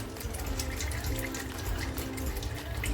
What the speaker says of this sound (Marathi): हे बोंबील आहेत ना ते मी अगोदर धुवून घेतले होते पण आता थोडे परत एकदा धुवून घेते